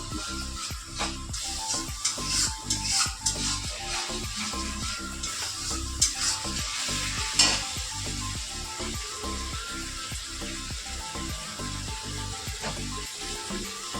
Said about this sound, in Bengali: ডালটাকে ফোড়ন দিয়ে নেবো